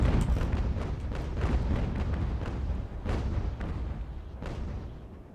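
Ship cannons firing in the naval battle game Ultimate Admiral Age of Sail, a rapid irregular volley of booming shots, several overlapping and some sharper cracks, over a rumbling battle backdrop.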